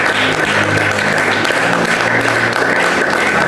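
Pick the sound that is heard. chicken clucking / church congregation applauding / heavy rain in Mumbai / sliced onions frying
church congregation applauding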